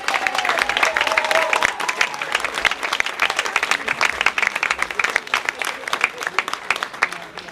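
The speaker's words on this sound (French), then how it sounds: "Je vous demande d'applaudir, s'il vous plaît" Dense, steady applause from an audience at the inauguration of the Optical Center foundation, many hands clapping continuously and close, with a brief voice early on.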